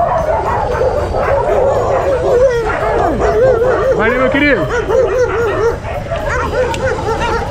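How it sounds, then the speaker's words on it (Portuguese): A crowd of dogs, some of them penned, bark, yelp and whine together in a steady, overlapping din, with someone talking over the noise. "Deve ter papo de uns 50 cachorros aqui pra mais."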